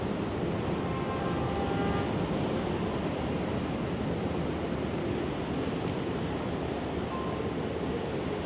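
Pacific Ocean surf on the Washington coast near Westport, heard as a steady, broad wash of waves from a clifftop, continuous and fairly loud, with wind rumble over the microphone and no talking.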